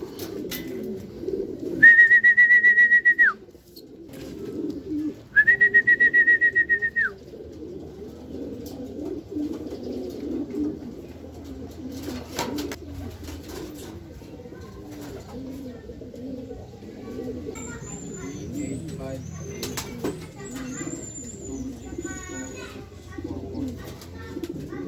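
Racing pigeons at a home loft in Pasig City, at the end of a derby race, coo in a low, steady murmur, with two loud whistles early on and faint background noises.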